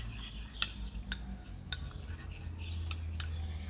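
A spoon scrapes and clinks against a bowl while orange fruit is stirred into a face mask mix, giving a few faint, irregular taps and rubbing strokes over quiet room noise.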